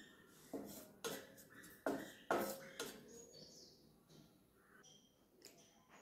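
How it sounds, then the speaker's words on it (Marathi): Grated coconut is roasted in a hot kadai, with a spatula scraping and clinking against the pan in several sharp knocks, then quieter stirring while faint bird chirps sound in the background. "आता खोबरं भाजून घेते मी पहिल्यांदा।"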